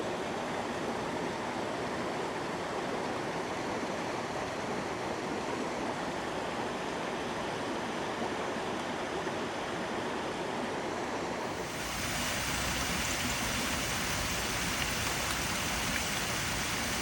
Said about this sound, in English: A waterfall against a redwood.